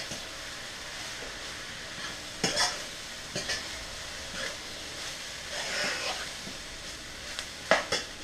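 A spoon stirs soy sauce into quinoa in a pot on high heat, making soft scraping strokes over a faint steady sizzle, quiet and close, with a few louder scrapes toward the end.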